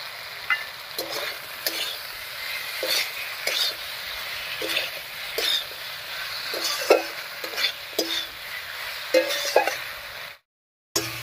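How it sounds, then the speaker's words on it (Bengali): Ground spice paste frying in a pan with cooked tomatoes for a fish curry with pui shak, a steady close sizzle broken by repeated scraping stirs of a spoon against the pan. "এবার এর মধ্যে বাটা মশলাটা দেবো"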